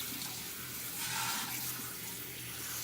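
Water runs steadily from a tap while hair is rinsed after bleaching, a constant close splashing wash that swells slightly partway through, with no talking.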